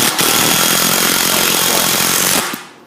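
A power screwdriver drives screws into panels while a Little Mansion is assembled, giving one loud, close, steady whirring burst of about two and a half seconds that cuts off near the end.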